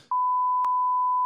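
A censor beep drops onto talk-show chatter: a steady, loud, pure electronic tone that cuts in after a brief scrap of voice and holds unbroken for over a second.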